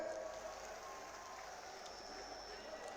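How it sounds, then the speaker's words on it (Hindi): Dense, steady crowd applause fills a Narendra Modi rally in Taranagar, Churu, Rajasthan, greeting candidate Rajkumar Rinwa, a continuous wash of clapping from a large outdoor gathering that holds even throughout without a clear break. "जोरदार तालियों के साथ इनका अभिनंदन करें"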